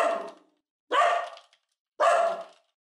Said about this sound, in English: Oh, we got barking.